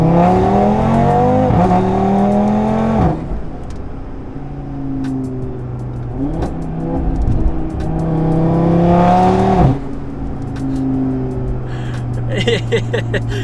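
A stage 2 tuned Audi RS3 pulls hard in second gear, its engine note climbing steeply in two long sweeps separated by quick shifts, loud and close from the cabin, with a faint voice near the end.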